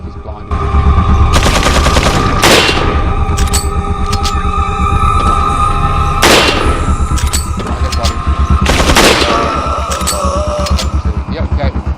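Rifle fire in the video game Resident Evil 4, with several sharp broadband shots ringing out over a steady game soundtrack and ambience across the span.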